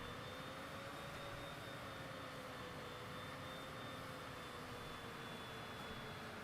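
Steady airplane engine drone from Microsoft Flight Simulator on Xbox, a continuous even jet-like roar with a thin high whine holding level throughout, no talk.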